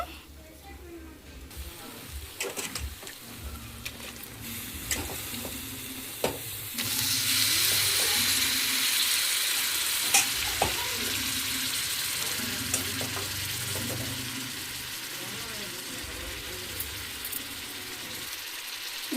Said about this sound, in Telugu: ఇప్పుడు ఇందులో అయితే నేను చికెన్ అయితే వేసేస్తాను.